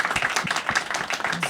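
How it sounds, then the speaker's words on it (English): Audience applause at a Great SA Silk Road panel discussion, honoring the panelists: a brief, steady patter of many hands clapping at moderate loudness, with no one speaking over it. "A big round of applause for all of our panelists today."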